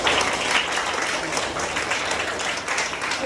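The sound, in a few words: audience applause for a student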